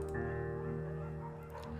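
A small scruffy beagle in the game Firewatch gives soft whimpering yips and low bow-wows over a steady, dense musical backdrop.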